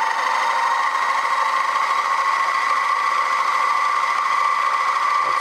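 A milling machine runs at higher speed with a carbide insert face mill, giving a steady loud mechanical whine with strong tonal bands and no breaks.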